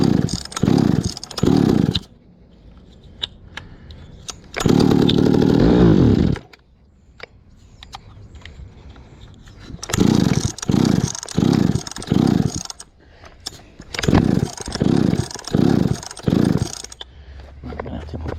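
Stihl-type chainsaw engine being revved with the choke in and decompression off, loud close bursts of rasping revs in short pulses and longer runs, separated by quiet gaps where the engine idles or dies, no talk.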